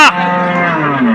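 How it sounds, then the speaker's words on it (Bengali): A Friesian cow lets out a single loud, close moo at a busy rural cattle market, one sustained bellow lasting about a second. "সব বড় বড় গরু"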